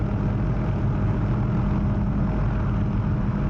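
OH-6 light helicopter airborne just after takeoff in the DCS flight simulator, a steady, dense low engine and rotor drone holding constant loudness throughout, with no talk.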